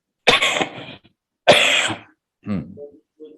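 Two sharp coughs in quick succession, close and fairly loud, followed by a short throat-clearing sound.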